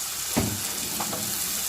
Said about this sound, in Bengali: একটু নাড়াচাড়া করলাম।